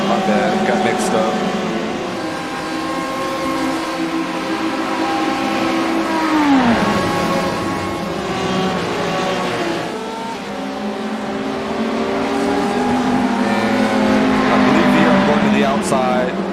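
Porsche hypercar engines race at Catalunya in a video game, a loud sustained engine drone with shifting pitch as one car closes on another Porsche, tire noise and passing engines swelling and fading, with a voice talking over it.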